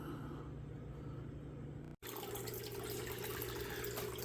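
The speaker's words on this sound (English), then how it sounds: "I have water running through it right now" Water runs steadily into a gold-panning sluice mat, a constant rushing flow with a brief cut midway, fairly faint and with no talk.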